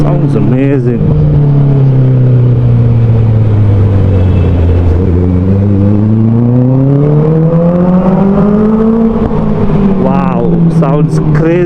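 A Honda CBR 650R motorcycle engine revving loud and close in a tunnel, its pitch climbing and falling through several gears with a steady droning howl, the rider talking over it.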